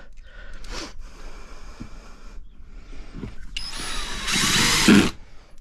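Power drill driving a screw into a deck board on a garden-plot platform, a short burst of loud whirring near the end, preceded by faint handling noises and breathing.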